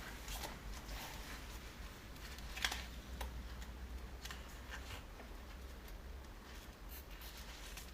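Scratch-off lottery ticket being scraped, a quiet, steady dry scratching texture with a few sharper scrapes, close up over low background hum, no talking.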